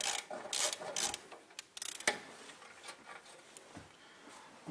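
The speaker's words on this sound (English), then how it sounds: "got the socket set out there now, so I'm going to just get the crack off both of these bolts" Socket wrench on the bolts of a Stovax Brunell 2CB wood-burning stove, a quick burst of ratcheting clicks followed by scraping metal movements, close and fairly loud, with no talk.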